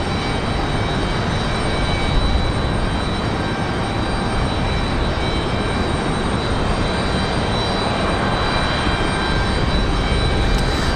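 United Express CRJ 550 regional jet at Raleigh-Durham airport on a windy day, a loud, constant broadband engine roar with faint high whine tones, heard alone.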